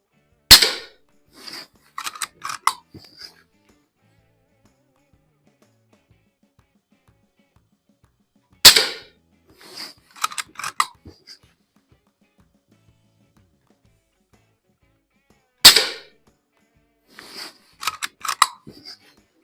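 Three sharp, snappy shots from a Norica Variatus 2.0 BP .22 bullpup air rifle at a range, spaced several seconds apart, each followed by a few quick clicks from cycling the action.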